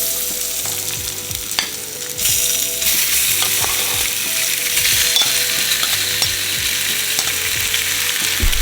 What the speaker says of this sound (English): So we're gonna add our steak and try to get a nice sear on it.